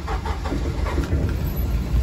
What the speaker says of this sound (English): Here goes the port engine.